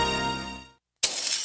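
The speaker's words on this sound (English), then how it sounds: "That's the sound of a house being trashed while a gang of thieves ransack the place." Glass shatters loudly in a sharp, close crash during a staged sound of a house being trashed by thieves, following a sustained ringing tone that fades into a brief silence.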